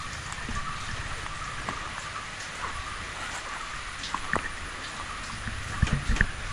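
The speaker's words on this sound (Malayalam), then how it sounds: "എന്താണ് ഇപ്പോൾ അടുത്ത മഴ വരുന്നു." Steady rain falls on a buffalo farm, a dense continuous patter with scattered sharper droplet hits, holding an even level throughout with no voices.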